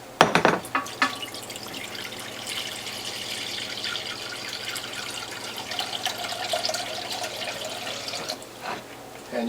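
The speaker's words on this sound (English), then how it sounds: "I'm going to get some distilled water from my tap" A kitchen tap runs in a steady, close stream for several seconds, with a brief clatter at the start and slight shifts in the flow near the end.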